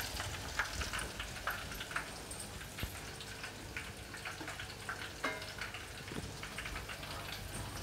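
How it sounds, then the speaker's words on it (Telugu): Leaves simmering in oil for a homemade hair oil, a faint steady crackle and sizzle with scattered small pops throughout, no voices. "ఈ ఆకు అనేది చిటపట అంటూ ఉంది."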